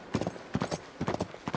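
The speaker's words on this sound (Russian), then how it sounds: "Мы помчались по пустыне на лошадях, ребята." Horses gallop across desert sand in the video game Uncharted 3, hooves striking in quick clustered triplets of clip-clop beats, close and clear with no talk over them.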